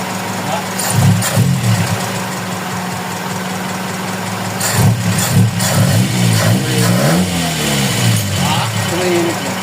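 A Toyota Corolla 2E car engine idles loudly nearby with a steady rough chug and a few brief rises in revs, while people talk over it.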